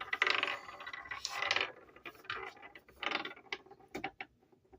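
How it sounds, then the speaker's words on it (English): Dice clatter and tumble across a surface in several quick rattling bursts, close and crisp, with brief pauses between rolls and no talking. "I'm going to roll the dice, see what zodiac sign we're looking at."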